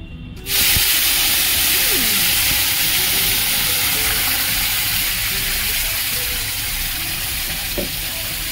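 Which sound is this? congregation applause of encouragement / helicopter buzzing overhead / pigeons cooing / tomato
tomato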